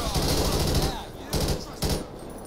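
Loud gunfire in the video game GTA 5 with the LSPDFR police mod, at an airport shootout, comes as a long rattling burst followed by two shorter bursts, all close and dense.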